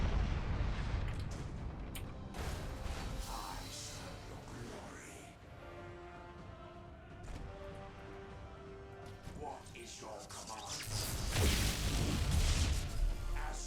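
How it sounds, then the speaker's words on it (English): Torpedoes being shot down during a Necron multiplayer space battle in Battlefleet Gothic Armada 2, with bursts of turret fire and muffled explosions under a dense, rumbling battle din that swells louder near the end. "So torpedoes are getting shot down and burnt at least"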